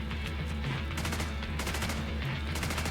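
Rapid bursts of incendiary-round gunfire in The Division 2, a continuous rattling volley of close shots with a few brief pauses, loud and dense throughout.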